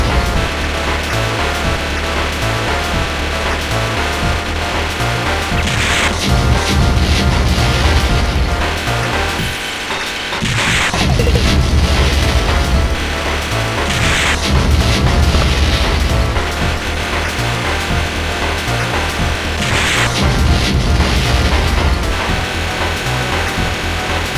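Enemy ships blowing up when shot in the PC shoot-'em-up Cho Ren Sha 68K: several sharp, noisy bursts break out every few seconds over a loud, dense, continuous game soundtrack, with no voices.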